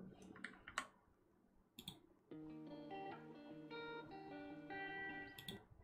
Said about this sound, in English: it's just the keyboard being loud